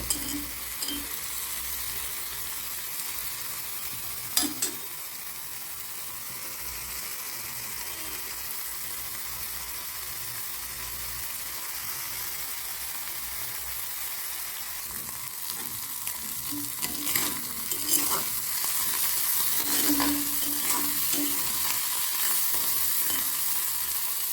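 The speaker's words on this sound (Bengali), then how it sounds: "মাছটা ভাজা ভাজা হয়ে যাচ্ছে" Fish seasoned with turmeric, salt and chilli powder sizzles steadily in a hot pan during village-style cooking, a continuous close frying hiss with a few brief clinks and stirring pops.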